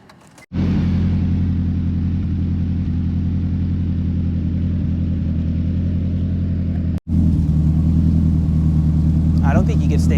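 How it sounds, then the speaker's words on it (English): A turbocharged K24-swapped 2006 Honda S2000 engine fires up abruptly and then runs loud and close in a deep, steady rumble, cutting out briefly once before catching again. "Yeah, we'll start it up."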